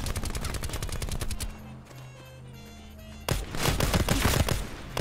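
Rapid loud gunfire crackles in a dense volley, breaks off into a quieter lull with a low hum, then resumes in another fast burst.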